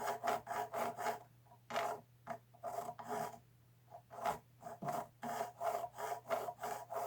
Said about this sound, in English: I'm just letting the weight of the file kind of just sit in the nut.